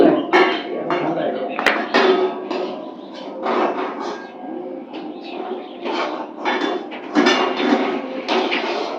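Boiled sweet potatoes are lifted out of a cooking pot, with repeated metallic clanks and scrapes of a utensil against the pot. A person talks intermittently between the knocks.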